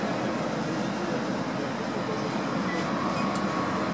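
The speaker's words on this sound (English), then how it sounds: "So get on a tram. It's a nice old tram." An old, run-down tram rattles along a neglected tramway in Lviv, Ukraine, giving a steady, loud rolling rumble with broad hiss and no pauses or voices.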